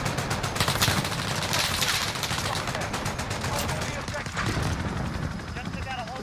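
Rapid automatic gunfire and bursts of shots in Call of Duty Warzone, loud and continuous throughout, with a player talking over the combat.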